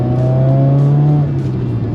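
A 400 HP turbocharged Subaru BRZ engine pulls hard under acceleration, a loud steady drone heard from inside the car that climbs in pitch and then eases as the driver short shifts.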